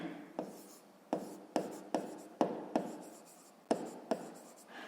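A math solution being written by hand with a pen on paper: a series of short, close scratchy strokes at an uneven pace, each with a sharp start that fades quickly, quiet and with no talking.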